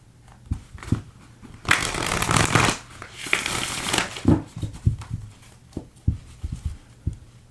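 A deck of tarot cards is shuffled close up, starting with soft taps, then a dense riffling burst, then a series of separate card flicks and slaps.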